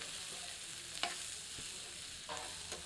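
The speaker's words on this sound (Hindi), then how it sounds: "अच्छे से मिलाते हैं।" Tomatoes with salt and turmeric being stirred in a pan for egg curry, soft sizzling under a few distinct scrapes and taps of a ladle, fairly quiet and close.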